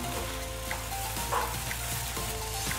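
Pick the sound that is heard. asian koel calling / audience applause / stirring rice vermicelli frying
stirring rice vermicelli frying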